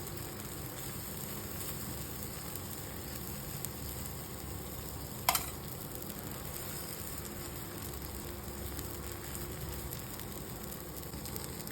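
Kara dosa sizzles steadily on a hot pan, a continuous close crackling hiss interrupted once by a brief sharp click, with no one speaking.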